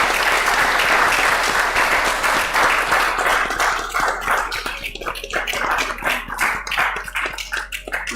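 Audience applause at a gathering, a dense wash of clapping that is loud at first and thins into scattered claps over about eight seconds.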